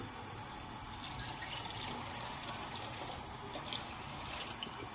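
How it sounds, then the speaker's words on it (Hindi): A steady stream of water pours continuously into a cooking pot for dal chawal, a constant rushing splash at moderate volume with no talking. "अब इसमें हम डालेंगे पानी।"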